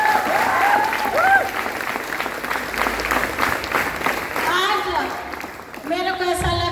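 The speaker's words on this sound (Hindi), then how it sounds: "इसके लिए जोरदार ताली।" Audience applause at a women's gathering, a loud, dense round of clapping that carries on and then eases as a voice starts speaking near the end.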